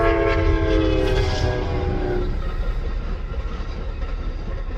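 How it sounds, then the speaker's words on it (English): A train passes close by at a crossing, loud, rumbling wheels and strong horn-like tones in the first half, fading to a steady rolling rumble as the cars keep going. "We stopped for a train"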